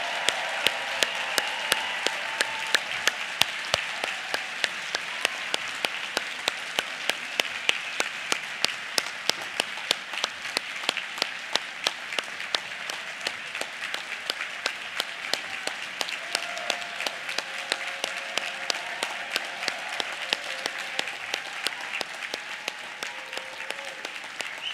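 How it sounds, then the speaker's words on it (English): A large audience at a college commencement gives the graduates a long, steady round of applause, with sharp individual claps standing out close by over a dense wash of clapping. "Let's give all the graduates one final round of applause."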